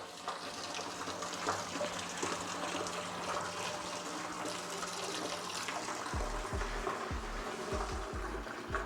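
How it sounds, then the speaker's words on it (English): West Coast IPA wort streams into a fermenter with a soft, steady gushing and splashing of liquid, faint and continuous, with low gurgling pulses toward the end. "Let's transfer to the fermenter."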